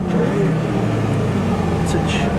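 Toyota MR2 or BMW M4 race car at Snetterton race track, engine held at high revs in a loud, steady, close drone that fills the whole moment, with no talking.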